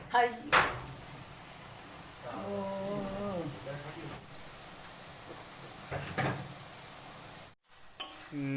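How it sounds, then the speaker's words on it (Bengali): Nimki dough pieces dropped into hot oil in a wok: a soft, continuous frying hiss runs throughout, with a few light metal clinks and a brief dropout near the end, fairly quiet and without talk. "কোঁড়ার মধ্যে আমরা তেল দিয়ে দিয়েছি এবার নিমকিগুলোকে এক এক করে ছেড়ে দেবো"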